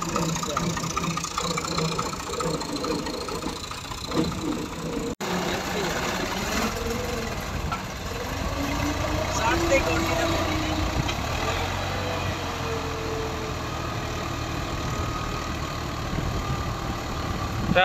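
Tractor engine idling steadily at close range, a low continuous rumble running throughout with a brief dropout near the five-second mark and faint background activity.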